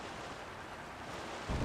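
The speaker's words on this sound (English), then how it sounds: "It's sailing pretty fast with the wind from the fans." A fan-powered boat crossing a river in Zelda: Tears of the Kingdom gives a faint, steady wash of wind and water rushing, with a louder low gust swelling at the very end.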